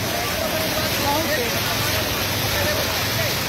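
Fast floodwater after torrential rain rushing along a road toward Lucknow in Barabanki, Uttar Pradesh, a loud steady broadband roar filling the whole clip without pause.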